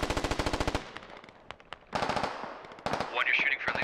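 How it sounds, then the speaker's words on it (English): Automatic gunfire from the video game Squad: a rapid burst of shots opens, then scattered single shots and further bursts follow, loud and close, with a voice speaking over part of it. "One, you're shooting friendlies."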